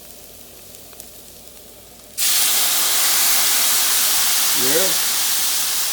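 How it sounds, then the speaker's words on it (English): Stock poured into a hot pan of shrimp risotto, setting off a sudden loud, steady sizzle and hiss that keeps going, with a brief voice over it. "I'm gonna throw a little, like maybe 4 ounces of stock right now"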